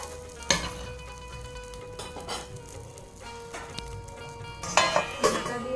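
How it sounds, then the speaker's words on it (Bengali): Milk chitoi pitha cooking in a wok, a soft steady sizzle with occasional metal clinks and lid or utensil clatter near the start and end, no talk. "তার জন্য আমি কড়াইতেই বানিয়ে নিচ্ছি ছোট্ট ছোট্ট করে"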